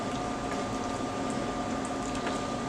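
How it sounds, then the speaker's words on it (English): Wine simmering in a pan while cooking a baked ziti, a steady soft bubbling and hissing that holds evenly throughout with no talk. "I want to cook this wine down before I put it in"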